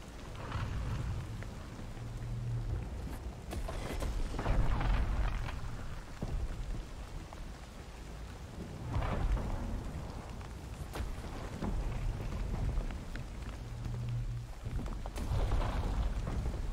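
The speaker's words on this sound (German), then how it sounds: "Der Sturm löst sich auf." A rain and thunder storm in the video game The Cycle: steady rain fills the whole stretch, with several deep, rolling thunder rumbles rising and fading in turn, and no talk.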